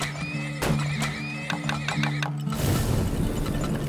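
Horses in the oil-drilling video game Turmoil whinny repeatedly with wavering high neighs over rapid clip-clopping hooves, followed by a burst of loud rumbling clatter at the end.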